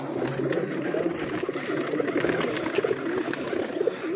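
Pigeons kept on a rooftop coo softly and continuously, a low burbling murmur with faint background noise.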